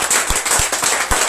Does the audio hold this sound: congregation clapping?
yes